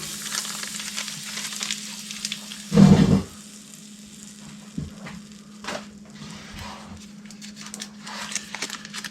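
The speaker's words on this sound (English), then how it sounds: "I'm gonna do a stick and a half of butter in here to start with." A stick and a half of butter melting in a pan sizzles and crackles steadily. There is one brief loud clatter near the start, then lighter stirring and occasional scrapes.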